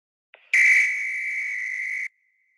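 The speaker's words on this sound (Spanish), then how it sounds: "El segundo ejemplo va a ser un pito." A single steady whistle blast of about one and a half seconds, loud and close, held at an even pitch and stopping abruptly, with silence on either side.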